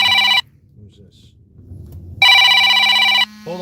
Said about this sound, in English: Sorry about the phone call.